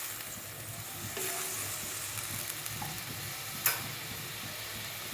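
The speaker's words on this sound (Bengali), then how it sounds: "এবার অল্প করে জল দেব।" Water poured into a hot pan of spice masala for an eggplant curry sets off a steady, close sizzle and frying hiss, with a brief sharp clink partway through.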